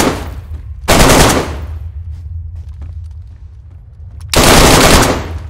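Two loud bursts of automatic gunfire in the survival video game DayZ, about three seconds apart, each a dense rapid rattle that fades, with quiet ambience and faint distant pops between them.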